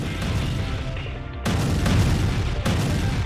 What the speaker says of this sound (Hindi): तोप की गर्जना ऐसी जिसने हमले की तासीर बदल दी